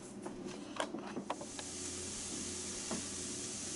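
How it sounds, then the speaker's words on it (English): Sausage patties fry in a pan with a faint, soft sizzle and scattered light crackles, steady and quiet with no talking. "I've got the sausage all sizzling here, and we're going to just keep stirring that until it's all completely cooked"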